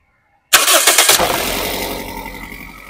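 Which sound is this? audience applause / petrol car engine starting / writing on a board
petrol car engine starting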